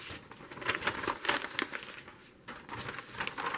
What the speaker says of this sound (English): I'm just going to cut this section off